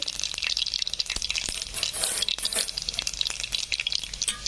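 Oil frying in a pan while making a brinjal (eggplant) dish, a close, crackling sizzle with sharp pops and stirring clicks throughout, loud and uneven; no voices.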